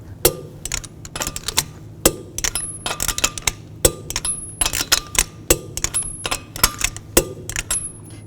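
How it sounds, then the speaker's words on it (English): A torque wrench tightens the lug nuts on a Toyota Matrix front wheel, giving sharp metallic clicks and clinks in irregular bursts, close and distinct over a faint background hum. "Now I'm going to torque the lug nuts to 76 foot-pounds in a star pattern so that it tightens the wheel down"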